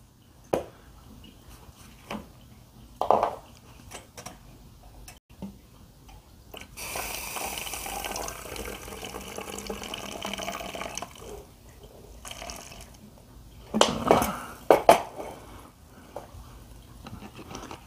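Water trickles and drips from a heated floor mat draining into a storage container, a quiet, steady pour with a few louder splashy bursts near the end.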